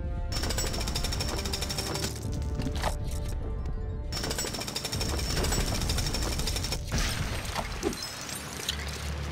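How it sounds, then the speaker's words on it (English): A jackhammer in the video game LEGO City Undercover pounds away in rapid, dense bursts, loud and close, running almost nonstop with a brief pause midway. "And then you gotta use your jackhammer."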